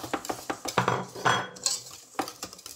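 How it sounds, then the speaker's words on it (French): Fekkas dough being mixed with sesame seeds in a bowl, a spoon knocking and scraping against the sides in quick repeated strokes, close and clear with no talk. "Je rajoute mes graines de sésame, je les mélange bien"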